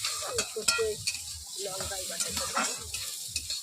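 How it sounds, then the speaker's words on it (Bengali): Onions frying in oil with cumin, sizzling steadily while a utensil stirs and scrapes the pan in irregular strokes, fairly close. "পেঁয়াজ দিয়ে দিচ্ছে। পেঁয়াজটাকে একটু লাল লাল হয়ে আসবে"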